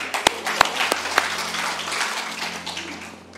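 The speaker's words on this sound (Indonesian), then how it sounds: "Tepuk tangan" A church congregation breaks into applause during a sermon, with a few sharp early claps giving way to a brief, moderately loud wash of clapping that fades within a few seconds.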